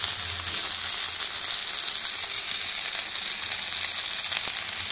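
Crispy pandugappa fish sizzles steadily in hot oil, a dense continuous frying hiss with no voices over it.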